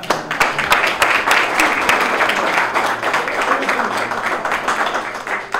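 Audience applause at a Ward 5 community meeting in the Brockton Public Library, a dense, loud run of many hands clapping that holds steady for several seconds and thins slightly near the end.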